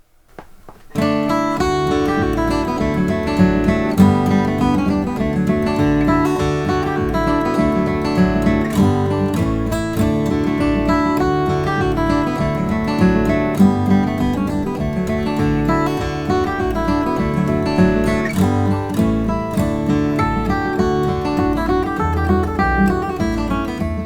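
A steady stream of fast, bright bluegrass acoustic guitar flatpicking plays a variation of the fiddle reel St. Anne's Reel, lively, driving and continuous with no voices.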